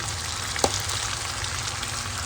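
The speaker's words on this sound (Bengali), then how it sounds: "ওই জন্য আমরা ভেজিটেবলের সাথে 2 থেকে 3 মিনিট আমি ভালো করে এখানে নেড়ে নেব।" Vegetables stir-frying in a pan with star anise powder, a steady close sizzle with one brief sharp clatter of stirring, no talking.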